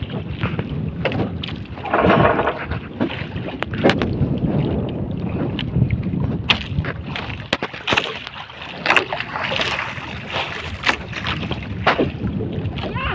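Broadband rumble of a boat moving on open water, with steady wind buffeting the microphone and occasional knocks and splashes close by.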